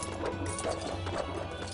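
Horse hooves clopping in the LEGO Pirates video game, a quick run of light hoof hits with game clatter, fairly quiet and without talk.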